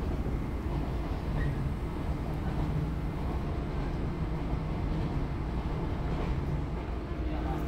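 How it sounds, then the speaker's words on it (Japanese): Steady low rumble and rattle from inside a Sanyo Main Line train running beneath the Shinkansen tracks on its approach to Fukuyama Station, a continuous even drone with no voices. "新幹線の下走って福山駅に入るところなんですね"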